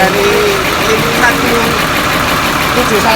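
A PO Santoso bus engine idles steadily at close range, a continuous low rumble with faint mechanical knocking running throughout, while people talk nearby.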